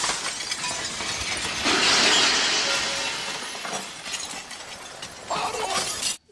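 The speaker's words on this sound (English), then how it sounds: "you hear the glass breaking all around you" Recorded glass shattering fills a Kristallnacht sound installation, a loud, sustained crash of breaking glass that swells midway, with a second burst of clinking shards near the end before cutting off.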